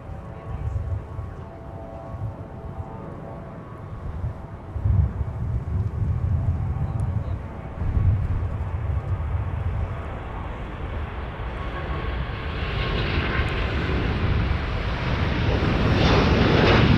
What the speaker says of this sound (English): Delta 160 Heavy now departing for Amsterdam with a big A350